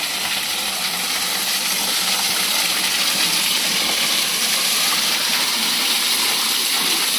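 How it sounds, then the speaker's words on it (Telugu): Water flows in from the side at the bathing place of the Punyagiri hill temple near Srungavarapukota, a steady, loud, unbroken rushing gush heard close by with no voices. "వాటర్ వచ్చింది సైడ్ నుంచి చూడండి ఒకసారి"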